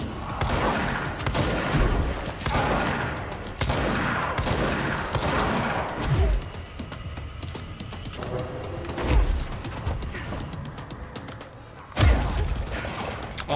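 Shotgun blasts in the Alan Wake game, a few heavy booming shots spaced several seconds apart over dense game music and mechanical clatter, with no talk.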